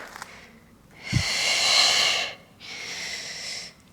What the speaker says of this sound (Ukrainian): Вдих. Видих. Вдих. Видих.